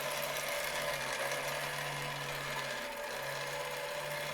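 A motorised Dapol Doctor Who toy from the 25th Anniversary set whirs steadily and faintly after being switched on, a continuous buzzing mechanical drone with no pauses.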